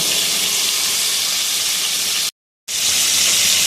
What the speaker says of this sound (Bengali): একদম লাল লাল করে ভেজে নেবো